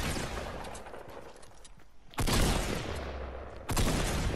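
Gunfire in the Fortnite video game: a dense fusillade of rapid shots at close range, breaking off briefly and then bursting back in loud, sustained volleys with no talk over it.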